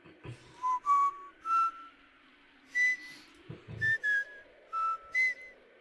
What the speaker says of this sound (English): Oh, whistle.